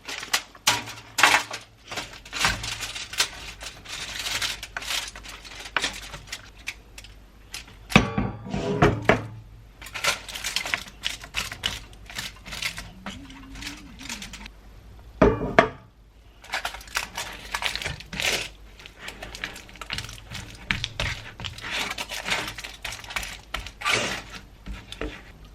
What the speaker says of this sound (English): And now we want to spread this all in to the pan